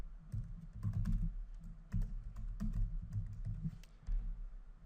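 Keyboard keys clatter in quick uneven bursts while an email address is entered for a new account, close and fairly quiet, with short pauses between runs of typing and no talking.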